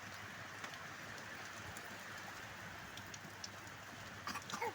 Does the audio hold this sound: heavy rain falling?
yes